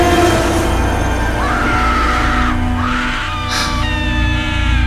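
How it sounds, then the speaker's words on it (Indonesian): A woman screams loudly in a horror radio drama, sustained shrieks rising and breaking over a dense, droning musical background, with no speech. "tiba-tiba terdengar suara teriakan seorang perempuan menjerit kencang sekali"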